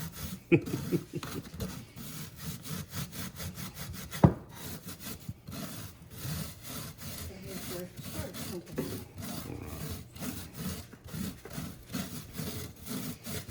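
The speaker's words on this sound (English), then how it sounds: "I can push it through the screen pretty easy" Dried herbs are rubbed and pushed through a screen, making a soft, close, continuous scratchy rasping with a steady back-and-forth rhythm, a few sharp taps and a faint voice under it.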